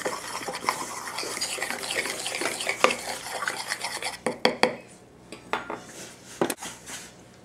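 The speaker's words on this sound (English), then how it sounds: "Mix salt and flour." A teaspoon of salt and a cup of flour are stirred together in a bowl for a pecan pie crust, with close, steady scraping and light clinks of the utensil against the bowl.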